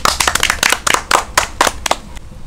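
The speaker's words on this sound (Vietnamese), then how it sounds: "Xin quý vị cho một tràng pháo tay đi." A burst of hand clapping from a small group, sharp uneven claps close by, fading out after a couple of seconds.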